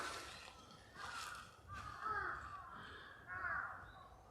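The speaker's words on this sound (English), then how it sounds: "Maybe these crows are nesting somewhere." Crows caw a few times in a park in Tokyo, the calls faint and distant over a soft outdoor hush.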